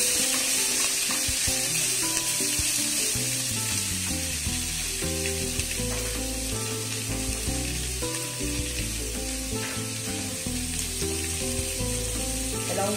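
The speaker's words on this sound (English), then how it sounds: "And we'll fry this onion till it is just translucent." Onion frying in a pan for South Indian masala dosa gives a steady, close sizzle that runs without a break, with a faint tonal layer underneath and no talking.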